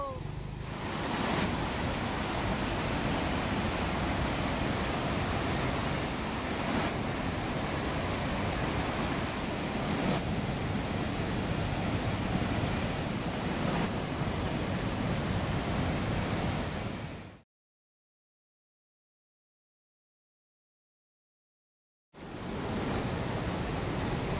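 Steady rushing water of Jungpana waterfall, a dense broadband roar that holds constant for about seventeen seconds, drops to silence, then resumes briefly.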